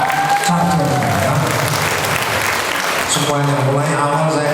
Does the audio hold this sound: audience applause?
yes